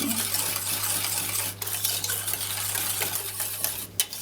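A whisk scrapes and clinks around a bowl, mixing sugar, flour and starch for a cocoa pistachio cake; busy metallic rattling with a steady low hum beneath and a sharper clink near the end.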